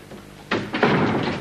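A door closes with a sudden thump followed by a second fuller knock as it settles, fairly close and loud, with no talk over it.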